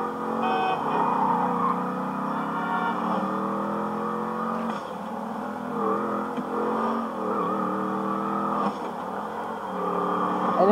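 The Phoenix car engine in the video game GTA V hums and revs steadily, pitch rising and falling through gear changes, a continuous close motor drone with no talk.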